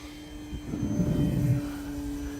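An HK Durafly Tundra V2 RC plane on a 3S battery flies overhead, its electric motor a steady whine that swells briefly and stays moderately close.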